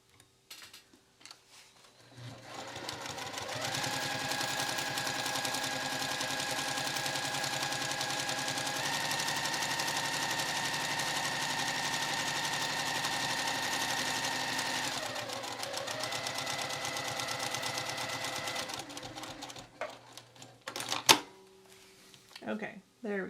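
A sewing machine top stitches around a fabric wristlet to close the gusset pieces, running in one long continuous rapid whirring burst near the mic, with a brief pause midway and a few clicks and handling knocks after it stops.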